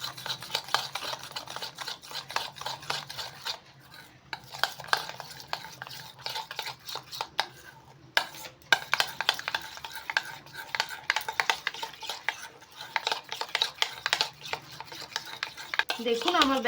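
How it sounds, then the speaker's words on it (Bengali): Batter mixed with turmeric, salt and black pepper is stirred steadily by hand, giving a continuous close-up run of scraping and swishing strokes with brief pauses and no talk. "এবার এটা পুরোটা মিশিয়ে নেব।"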